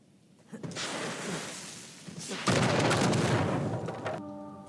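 Explosions in the video game Uncharted 4 rumble in two long, heavy bursts of booming noise with crackling debris, loud and sustained, ending in a brief tonal game sound.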